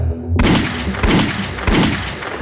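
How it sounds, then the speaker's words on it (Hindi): Three loud, evenly spaced gunshots fired from a gun, each a sharp boom with a short decaying tail, heard alone as a sound effect. "उसने अपनी बंदूक से 3 बार गोलियां चलाई"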